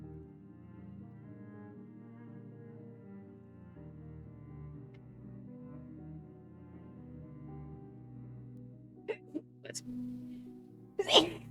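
A single sharp sneeze bursts out near the end, loud and close, after a long stretch of quiet droning game music.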